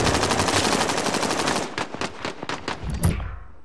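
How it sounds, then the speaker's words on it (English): Sustained automatic gunfire in Call of Duty: Modern Warfare, a dense rapid burst for over a second and a half breaking into several separate sharp shots, loud and close with no talk. "Someone's still shooting. Shit. They're still shooting."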